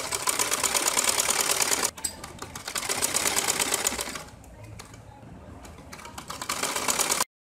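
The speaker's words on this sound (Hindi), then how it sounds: "ये अब मैं इसके ऊपर सिलाई लगा रही हूँ" A sewing machine runs stitches around a kameez neckline, whirring steadily and close up in long bursts broken by brief pauses, with no talking.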